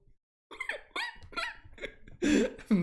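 A voice makes a run of squawky, high-pitched cries imitating a seagull, ending in louder, harsher calls.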